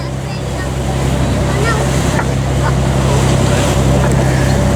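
A tour boat engine on the Bosphorus in Istanbul drones steadily with a low hum, wind and water rushing over it, growing a little louder partway through as the boat makes a U-turn.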